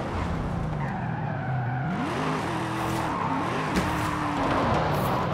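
Tires squeal and skid continuously as a car drifts on full slick race tires in Forza Horizon 5, with a wavering engine note rising and falling underneath the steady screech.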